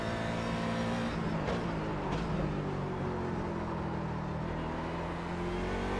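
Race car engine in the iRacing sim during an IMSA race at Watkins Glen, droning loudly and steadily for the whole stretch with layered harmonic tones and brief shifts in pitch as the car accelerates, with no voices.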